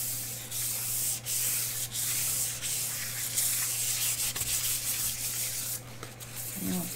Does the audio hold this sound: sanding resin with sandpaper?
yes